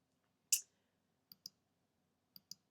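Computer mouse clicking: one sharper click followed by two quick double-click pairs, crisp and close in an otherwise quiet room, with no talking.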